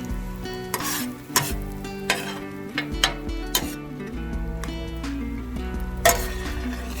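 Chorizo sizzles loudly in a pan while a utensil stirs and scrapes it, sharp clinks against the metal recurring every second or so over the constant close frying hiss.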